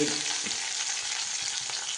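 Four chopped shallots sizzling in two teaspoons of hot coconut oil for an egg curry, a continuous bright frying hiss that holds steady throughout with no talking.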